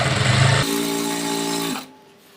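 A sewing machine runs in a short burst while stitching piping into a kurta's side slit, humming with a steady whir and then stopping abruptly.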